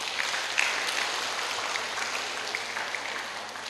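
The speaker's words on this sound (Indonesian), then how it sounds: "tepuk tangan untuk kita semua" Moderate, fairly distant applause from an audience at an Islamic professional talk, an even patter of many hands that fades slightly toward the end.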